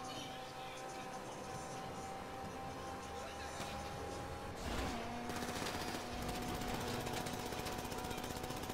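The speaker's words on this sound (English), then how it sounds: "he's shooting at us" Rapid automatic gunfire fires at the player's car in a video game, a dense rattling burst that grows louder in the second half under a steady engine hum, with someone talking over it.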